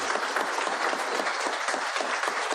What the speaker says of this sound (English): let's give another round of applause to the presentation of the colors and Corporal Wagner.